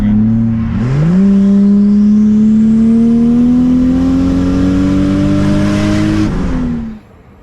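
A tuned car accelerates hard under power on a highway, its engine note climbing steadily for about five seconds in one long, loud pull before the throttle lifts and the sound drops away.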